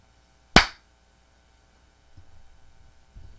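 A single sharp hand clap rings out close and loud from cold, numb hands, followed by near silence and faint low rustling.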